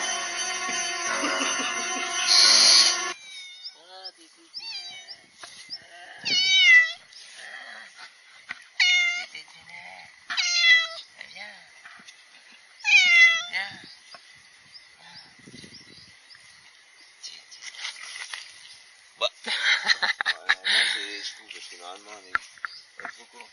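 A cat meows repeatedly in short rising and falling calls, fairly close, spaced a few seconds apart, with soft noises and quiet background sounds between the calls, after a burst of noise at the start.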